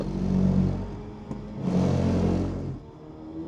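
A car revs hard while drifting, two strong engine surges separated by a short gap and a sharp click, the second one broader and rougher before fading out, nearby and with no talking.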